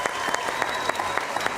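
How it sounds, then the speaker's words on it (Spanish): An audience bursts into applause, brisk continuous clapping from a nearby crowd in a studio setting. "Un aplauso para Carmen."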